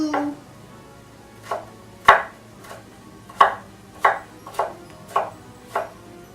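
A knife chops onions for a creamy spinach soup, about ten crisp separate strokes landing on a board at an uneven, unhurried pace, close and clear against a quiet kitchen with no talking.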